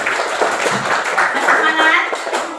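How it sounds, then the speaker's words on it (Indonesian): A classroom of fourth-grade students clapping hands together in a dense, lively burst of many overlapping claps, with children's voices chattering underneath. "semuanya tepuk tangan dulu."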